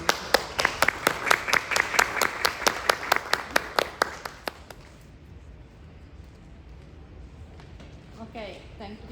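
Audience applause after a classroom presentation on a mathematics teacher project: a burst of steady, fairly close clapping for about four seconds that tapers into quiet room noise.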